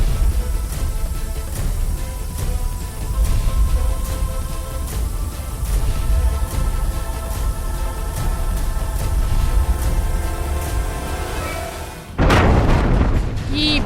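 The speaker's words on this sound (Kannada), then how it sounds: "ಈ ಭಾರೀ ಸ್ಫೋಟ" A large blast at an illegal mining site in Lingasugur taluk, Raichur, bursts out suddenly near the end as a loud broad boom after a long stretch of steady rumbling machinery noise.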